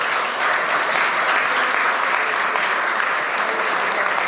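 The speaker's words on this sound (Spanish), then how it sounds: "Un aplauso." Audience applause at a book talk, steady sustained clapping from a seated crowd filling the whole stretch, fairly loud and even without breaks.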